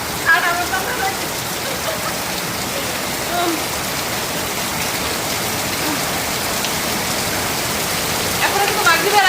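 Steady, dense rain falls on surfaces nearby, a constant wash of drops that stays loud and even for the whole stretch, with no speech over it.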